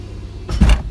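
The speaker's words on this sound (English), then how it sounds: "Put it in first gear. Let's see if it clunks." A Ford Probe GT is shifted into first gear, giving a short low thud and clunk near the end of a brief moment of quiet engine idle.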